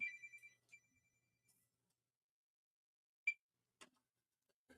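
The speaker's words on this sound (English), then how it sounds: "phone's ringing. It's on the ground." A mobile phone lying on the ground outdoors, its ringtone chiming briefly in short tonal bursts with sparse sharp ticks between them, faint and distant with long quiet gaps.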